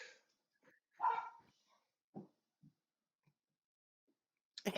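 A dog gives a few short, scattered barks and yips, fairly faint with quiet gaps between them, followed by a brief louder noise at the end.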